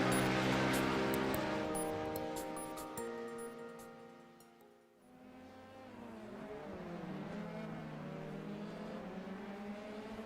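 F3 race car engines in the iRacing sim at Sonoma Raceway whine loudly at first, fade to a brief lull, then return as overlapping engine tones sweep past in pitch.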